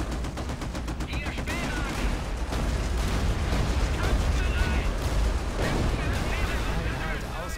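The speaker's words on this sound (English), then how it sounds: "my mortars are doing an awesome job" Mortar and gunfire in the World War II strategy game Company of Heroes, a steady barrage of shots and blasts at mid distance, with a voice talking over the battle.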